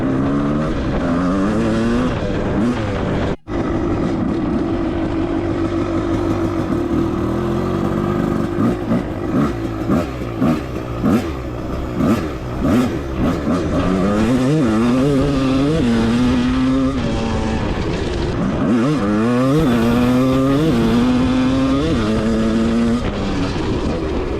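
A Suzuki RMX 250 two-stroke dirt bike with a new Wiseco piston runs loud and close for the whole stretch, its engine note rising and falling through repeated revs and gear changes, with one brief cut near the start.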